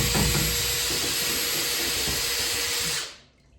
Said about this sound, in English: give that a good mix up with the still, just to sort of combine all those ingredients together